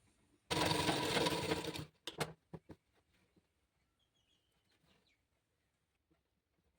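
A sewing machine runs a single quick burst of stitching on blouse lining, loud and close for just over a second, then stops, followed by a few sharp clicks and near silence.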